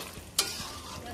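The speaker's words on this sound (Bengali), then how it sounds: "হ্যাঁ দিন দিন এখানে বেগুন ভাজা চলছে," Eggplant frying in hot oil gives a short, steady sizzle, with one sharp scrape of stirring partway through.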